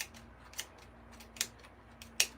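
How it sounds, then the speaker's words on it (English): Scissors snip through ribbon in a few quick, sharp cuts spaced about a second apart, close and fairly quiet over a soft room hum. "And it just makes it really fast for cutting ribbon."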